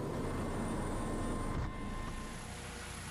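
A rescue helicopter lifts off over the North Sea, its engine and rotor making a loud, steady roar that drops slightly in level partway through, with no voices.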